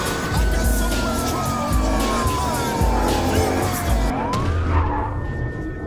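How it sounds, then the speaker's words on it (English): In Battlefield Hardline gameplay, a police siren wails and sweeps in pitch over loud, continuous engine roar and rumbling traffic, with a brief tire-like squeal near the end. "Whoop, whoop. That's the sound of the police."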